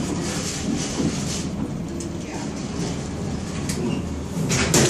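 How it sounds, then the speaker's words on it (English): A KM White elevator door at the Marshall University Memorial Center slides shut, heard as a loud, steady mechanical rumble and rush that swells slightly at the end, with no talking. "Door slams."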